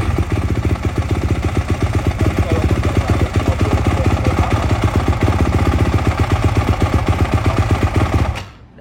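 A motorcycle with no key is started on its starter and keeps running, a loud close rapid pulsing engine idle that holds steady for several seconds before cutting off abruptly.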